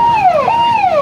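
An ambulance siren wails on a road blocked by protesters in Hailakandi town, its loud tone sweeping up and down in a steady repeating cycle close by.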